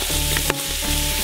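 Jelly ear fungus hits a hot stir-fry pan with a loud, continuous close sizzle and hiss, broken by a brief clatter midway.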